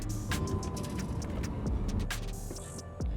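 Porsche 918 hypercar rolling through a town late at night, a steady low engine and road rumble with faint clicks and brief higher noises layered on top, heard continuously from inside or close by.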